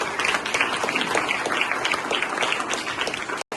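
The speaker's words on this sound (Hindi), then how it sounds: "तालियां दें।" A school audience at a Veer Bal Diwas event claps loudly and steadily in a dense, sustained burst of applause that ends with a brief dropout.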